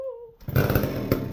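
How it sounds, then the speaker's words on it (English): An old Pro Mac 1010 chainsaw kicks into a loud, buzzing, rough idle right after a brief whooping voice and keeps running steadily and up close to the end. "That's the sound of an old 1010 Pro Mac."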